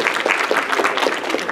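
Audience applause at an anime convention cosplay panel, a dense, steady wash of many hands clapping at close range that fills the short moment without any voices.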